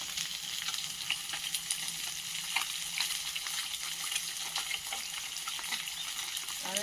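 Bhetki fish frying in a pan gives a steady close sizzle with crackling pops. It runs unbroken, with no one speaking.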